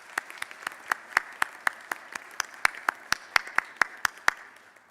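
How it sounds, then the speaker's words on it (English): A small audience claps for a row of civic representatives, including a city councilman, at a brand announcement event; about twenty sharp, distinct claps in an uneven rhythm, fairly near and moderately loud, with no one speaking. "So I'd like to extend a round of applause for these representatives."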